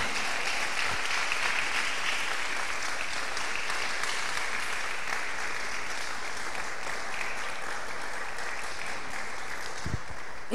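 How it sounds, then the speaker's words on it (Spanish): A church congregation claps steadily and densely for over ten seconds, a continuous wash of hands with a couple of sharper thumps near the start and end. "Denle aplauso al Señor, hermano."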